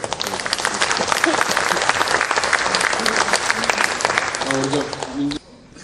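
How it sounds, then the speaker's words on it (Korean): Loud, dense applause from lawmakers at a Korean party caucus meeting, sustained and close for several seconds, then cutting off abruptly, with a voice briefly audible near the end. "박수."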